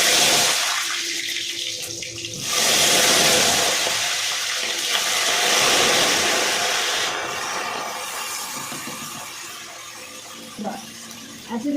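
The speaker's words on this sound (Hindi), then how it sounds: "पानी वाली सब्जियाँ डालो तो वो ज़्यादा छींटे मारती है" Watery chopped vegetables hit hot oil in a home kitchen pan, a loud hissing splatter that swells, eases and stays as a steady sizzle.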